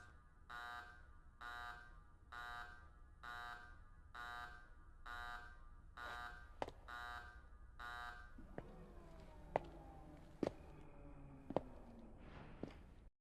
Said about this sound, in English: And the alarm is just a warning.